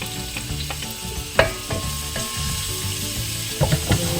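Ginger frying in hot oil for pinapaitan, a steady close sizzle with occasional sharp crackles and spatters, no talking.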